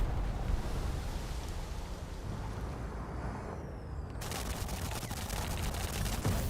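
Aircraft strafing gunfire in War Thunder, a continuous roar of rapid machine-gun fire mixed with engine and wind noise that sharpens into a dense, crackling burst of rounds midway.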